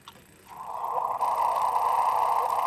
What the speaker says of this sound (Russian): This is the sound of two black holes colliding.